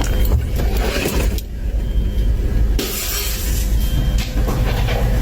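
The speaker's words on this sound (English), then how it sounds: "And you just smashed a window?" A car window is smashed, with loud, close bursts of breaking glass and crunching debris over a continuous roar of road and vehicle noise.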